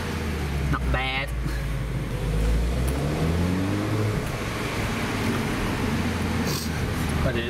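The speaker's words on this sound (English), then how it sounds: "I'll give you a bit of sound from the car" A car engine hums and rises in pitch as it revs, close and fairly loud, with a few brief voice-like sounds over it.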